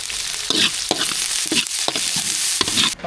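Mustard, asafoetida, green chillies and curry leaves crackle and sizzle in hot oil as tempering for cabbage kootu, a steady close fry with sharp spitting bursts and stirring, no talk.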